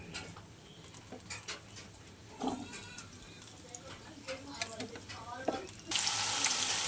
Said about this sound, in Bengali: আমি আলুটা বেশ ভালো করে ভেজে নিচ্ছি।